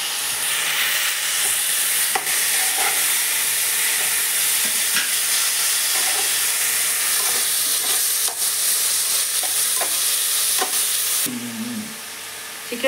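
Chicken masala with ginger-garlic paste fries in a pan, giving a loud, steady sizzle and hiss that runs nearly the whole time, with occasional stirring clinks, before easing off near the end.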